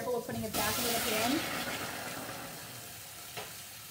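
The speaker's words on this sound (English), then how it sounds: "And then we're going to add our pasta in" Cooked pasta tumbled into a hot pan of butter lemon sauce, giving a loud burst of sizzling and stirring that settles into a steady, softer frying hiss.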